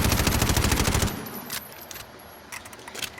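Rapid automatic gunfire in a video game rattles out in a fast, dense burst for about a second, then a few scattered single shots ring out over a quieter tail.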